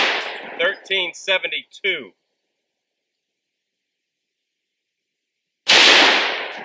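A single loud, sharp gunshot from a .45 Super pistol firing a 200-grain hardcast lead bullet at a shooting range rings out with a decaying tail, after a man briefly reads out a number and a stretch of silence.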